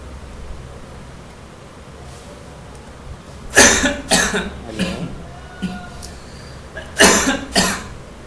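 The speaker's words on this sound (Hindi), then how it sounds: "मेरे को खांसी हो रही है" A person coughs during a lecture on truss analysis, several sharp throaty coughs in two clusters, close to the microphone over a low hiss, with no speech.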